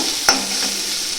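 Spice paste with cashew paste sizzles in hot oil with a steady hiss, broken by a single sharp scrape of a spoon stirring the pan.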